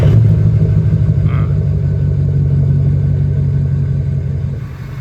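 A 2006 Ford F350 with a 6.0 Power Stroke diesel engine rumbles nearby in a low, steady idle that stays even throughout and eases off slightly at the end.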